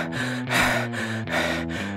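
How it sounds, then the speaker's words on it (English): Heavy rhythmic panting, a cartoon character breathing in and out in quick repeated breaths, close and loud with no other sound. "So, stop panting."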